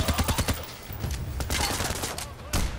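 Rapid automatic gunfire from the Payday: The Heist video game, a burst of quick shots followed by scattered bursts, fairly loud and close, with speech mixed in.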